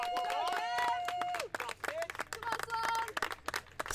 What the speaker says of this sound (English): Nice round of applause for the Lions faithful here.